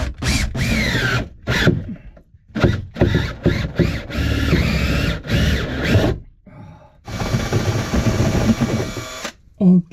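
Power drill boring through the wall of an off-grid cabin, in repeated short bursts separated by pauses, close and fairly loud, with someone speaking between runs.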